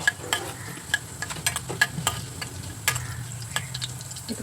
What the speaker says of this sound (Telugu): ఆయిల్ వేడెక్కిన తర్వాత కొంచెం ధనియాలు దోరగా వేగాలి.